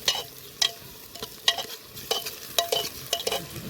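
Onions and spices sizzle steadily in a pressure cooker over an outdoor clay stove while a utensil scrapes and clinks against the metal in irregular strokes.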